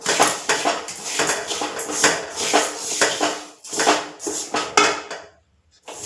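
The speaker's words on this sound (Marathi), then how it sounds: "भाजून घेतलेल्या सगळ्या वस्तू एकत्र परत कढईत टाकायच्या। कढईत घातल्या त्यानंतर थोडा वेळ हलवायचं" Roasted mukhwas ingredients being stirred in a kadhai, giving a run of rapid metallic scraping and clinking strokes that stop briefly near the end.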